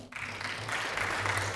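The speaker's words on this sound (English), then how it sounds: "giving them a big round of applause" An audience at a climate fund workshop applauds the panelists, a brief, dense patter of clapping that holds steady throughout.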